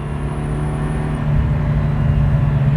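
Ferrari 308 GTSi with its V8 engine, a steady low rumbling drone, loud and close, running without speech.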